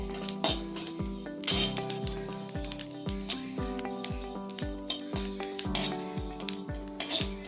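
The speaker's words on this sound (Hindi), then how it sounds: "ज्यादा नहीं भूजेंगे, बस खुशबू आने तक भूजेंगे" Ingredients dry-roast in a pan while a metal spatula scrapes and taps in a steady rhythm over a light sizzle, close and fairly quiet.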